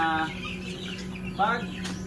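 Meat-type chickens, a mix of males and females, are being shifted from a brooding box to a grow-out house. A couple of short, close clucks sound over a steady low hum.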